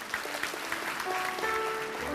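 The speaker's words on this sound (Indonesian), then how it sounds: "Puji Tuhan, kasih tepuk tangan untuk Tuhan." Church congregation clapping during a sermon service, a short burst of scattered applause with a faint sustained organ or keyboard tone underneath, moderately quiet.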